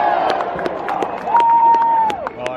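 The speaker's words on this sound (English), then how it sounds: "being able to see thousands of people in a stadium at midnight cheering for their football team" Thousands of football fans cheering in a stadium at midnight, a distant crowd roar with whistles and a sustained whistle or horn tone, sharp claps and bangs cutting through, voices mixed in.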